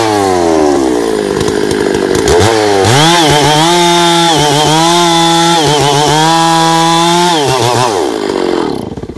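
A chainsaw cuts into a tree log, revving up from idle into a loud, sustained high-pitched whine while the chain bites through the wood, then dropping off as the cut ends, very close.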